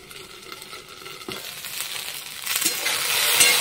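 Okra frying in a pan on a home stove: a steady, close hiss that swells louder toward the end, with a few stirring scrapes and clinks mixed in and no voices.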